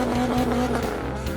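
A drift car's engine roars steadily on a ride while the tires squeal continuously, loud and close from inside the car, with no talking.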